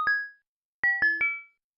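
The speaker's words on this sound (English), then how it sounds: "the noises that they make are actually the menu sound effects, but slowed down" Slowed-down Yume Nikki menu sound effect used as the Hole character's noise in the game: a single low chime, then three deeper, drawn-out tonal dings in a short descending cluster, clear and isolated with silence between.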